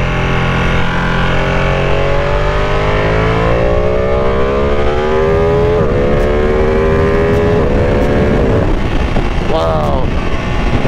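Ducati Panigale V2 sport motorcycle on a relaxed road ride, its engine note climbing steadily through the revs with brief dips at gear changes, loud and close against constant wind rush.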